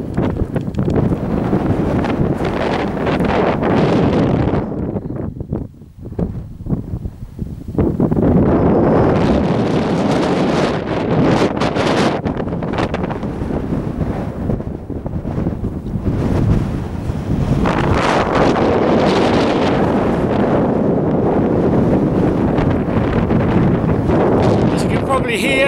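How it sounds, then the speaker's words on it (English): Strong wind buffets the microphone at the hilltop summit cairn of Moel Y Parc, a loud, continuous roaring rumble with a brief lull, while someone speaks through it. "Here, very windy"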